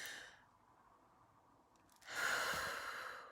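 Slow, deep inhalation through the nose during a postnatal breath-work exercise for diastasis recti, a soft airy breath that swells and grows louder toward the end, heard close and alone with no talking.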